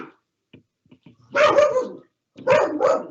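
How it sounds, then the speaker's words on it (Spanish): A dog barks in two loud bursts of several rapid barks each, fairly close by, following a few faint quiet sounds. "aquí el perro ladrando"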